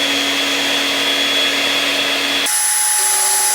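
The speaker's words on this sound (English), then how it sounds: "I've got some 3/8 inch threaded rod here. I'm going to cut this to about 1 inch." Power tool cutting 3/8 inch threaded steel rod to about one inch for a custom leather motorcycle seat on a Grom, a loud steady whine that shifts abruptly in pitch partway through.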